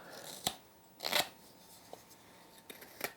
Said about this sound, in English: Let's try this guy out, this big 1 5/8 carving knife